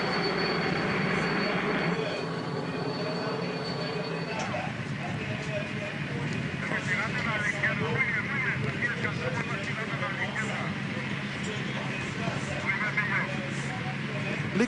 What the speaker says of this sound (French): Et notre hélicoptère.